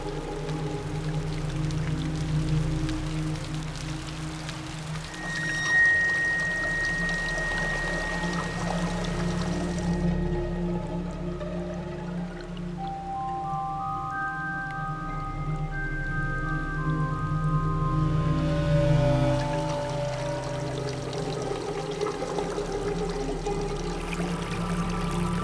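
A mountain stream in the green ranges of northern Iran, its water flowing and pouring steadily and fairly loud, with sustained musical tones layered over it.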